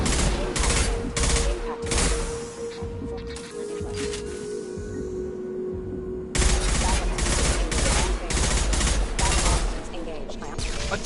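Rapid bursts of gunfire in a Mass Effect 2 firefight fill the clip, loud and dense with a steady tonal hum beneath. After a brief lull the shooting resumes with heavier overlapping volleys.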